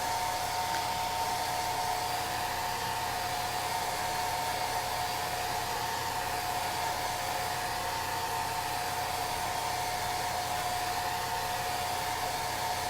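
A hair dryer blows steadily on wet chalk paste across a craft project, a loud continuous whirring roar with a tonal whine that holds unchanged throughout, with no voices over it.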